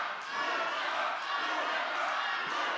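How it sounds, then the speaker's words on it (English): Spectators cheer and shout continuously at a women's longsword fencing final, a dense, steady roar of crowd noise with brief swells and no single voice standing out. "The crowd is excited."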